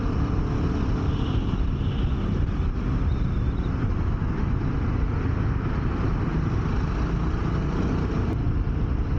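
A Royal Enfield New Himalayan motorcycle ridden along a straight road, its engine drone and wind rush steady and loud throughout, close up with no pauses and no voices.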